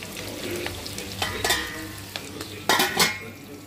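Onions, green chillies and curry leaves fry in a pan with a steady sizzle, broken by several sharp clinks and scrapes of a spoon stirring against the metal, with no talking.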